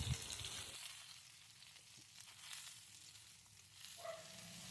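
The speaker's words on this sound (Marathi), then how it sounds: "तेल मस्तपैकी गरम होऊ दिले आणि त्यात टाकले हे कारले मस्त असे होऊ दिले क्रिस्पी होईपर्यंत त्याच्यामध्ये तळून घ्यायचे आहे" Bitter gourd (karela) frying in hot oil on a tawa, a faint steady sizzle running throughout with a few soft stirring clinks, no voices.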